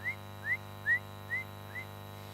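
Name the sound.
voice imitating spinner dolphin whistles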